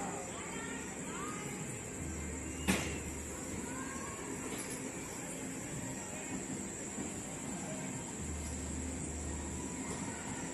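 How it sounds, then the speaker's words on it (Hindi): A superfast express train departing Meghnagar railway station, a low steady rumble with a sharp metallic clank and faint squeals, station ambience around it. "अब ट्रेन रवाना होने वाली है"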